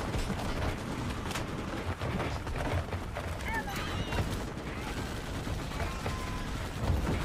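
Turret gunfire in the sci-fi shooter game Starship Troopers: Extermination, dense bursts of shots and booms running steadily through the whole stretch, with distant battle clatter around them.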